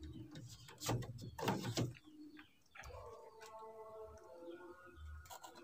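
A turtle dove coos inside a small breeding cage, soft rhythmic cooing notes following a few louder rustling flutters and knocks, close and fairly faint.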